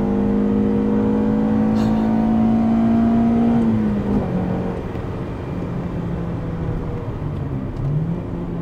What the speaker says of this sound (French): vous voyez déjà moteur hurlant dans la CRX